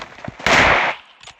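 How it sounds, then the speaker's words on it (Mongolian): A single loud, sharp bang from a toy gun or firecracker rings out close by, with a brief decaying tail and faint voices around it. "Би буудлаа."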